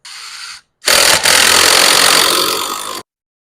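A compact Milwaukee drill bores into wood while a hexagon garden trellis is built: a short burst of loud, whirring drilling, a brief pause, then a longer steady run of about two seconds that cuts off abruptly.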